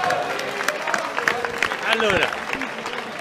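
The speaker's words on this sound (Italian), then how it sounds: "Facciamo un applauso al sindaco." Crowd applause for the mayor at a contrada's propitiatory dinner for the 2019 Bientina Palio, in the historic centre: a steady wash of clapping that runs the whole time, mixed with voices talking.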